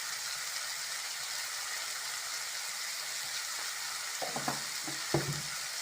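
Green beans frying in a pan with a steady broadband sizzle throughout, and a few soft scraping stirs near the end.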